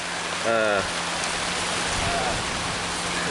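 Steady rain falls outdoors at a lakeside fishing camp, a dense even hiss throughout, with a brief voice-like burst near the start.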